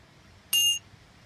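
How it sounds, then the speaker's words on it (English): A single bright chime strike during a calm breathing session, ringing clearly for about a quarter second before cutting off, alone over quiet room tone. "as you hear the chimes"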